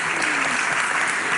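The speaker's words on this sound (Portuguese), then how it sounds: "uma salva de palmas para vocês" Classroom students clap together after a vocal exercise in a lesson, producing a dense, steady burst of applause that fills the short moment without any talking.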